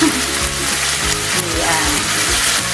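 Pork tocino fries loudly in a pan, a bright continuous sizzle dotted with spitting pops and splatters, close up and without talk.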